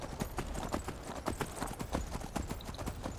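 A horse's hooves clip-clop steadily in the Skyrim video game, a quiet, even rhythm of rapid hoofbeats that continues throughout without pause.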